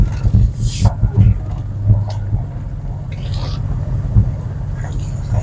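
A 2005 Ford F-150 pickup truck drives along at low speed with a steady low engine and road rumble, fairly close throughout, with small bumps and knocks from the cab.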